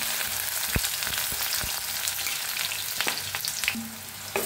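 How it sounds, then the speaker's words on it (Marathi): Onion frying in hot oil in a kadhai for a dill (shepu) vegetable dish, a steady close sizzle with scattered crackles and a few sharp clinks of a spoon, no talking. "आता तेल चांगलं तापले, त्याच्यात टाकूया कांदा।"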